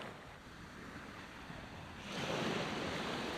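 Sea breakers roll onto Cromer beach as a steady wash of surf, swelling louder partway through with wind buffeting the microphone, and no voices.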